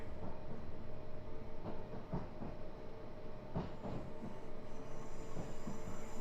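A train on the London to Brighton route pulls into a station in a train simulator game, with a steady rumbling roll, repeated clickety-clack wheel beats over rail joints and faint squealing, continuous and fairly close, no talk.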